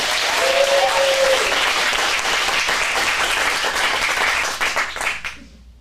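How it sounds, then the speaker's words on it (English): An audience claps after the first performance at a teens' script showcase in a Phoenix acting studio, full steady applause with a faint voice early on, tapering off and dropping away at the end. "let's get one more round of applause for our first performance"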